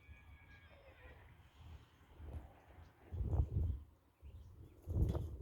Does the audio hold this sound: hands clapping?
no